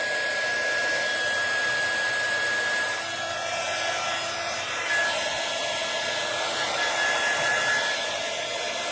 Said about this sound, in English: use my heat tool just to dry it out